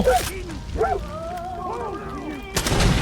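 Gunfire from the video game Far Cry 5: sharp shots open and close the moment, with harmonic, voice-like tones between them that suggest speech or shouting mixed into the game sound.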